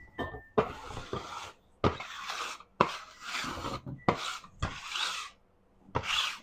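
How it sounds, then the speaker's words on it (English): A bench scraper rasps across pizza dough on a kitchen counter in repeated short strokes, about seven scrapes with brief pauses between them, close and fairly loud with no talking. "Get the old bench scraper out."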